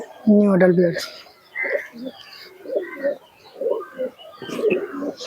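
Teddy pigeons kept in a cage let out a soft, throaty coo near the start, followed by further low murmuring sounds that may include nearby talk.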